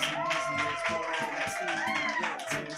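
Crowd at a live comedy and drag showcase clapping and cheering for a performer, a dense close patter of hands mixed with whoops and voices, and a host's amplified voice talking over the noise.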